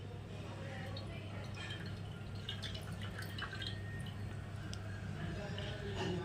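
Water for moina culture draining through a milk strainer, a steady trickle with scattered drips running throughout while a person talks over it.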